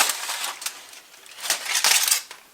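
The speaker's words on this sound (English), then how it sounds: "let's pull back the foil and see what we got" Aluminum foil is peeled back from a smoked pork butt that has rested about an hour, giving close, bright crinkling and crackling in uneven bursts that swell louder toward the end.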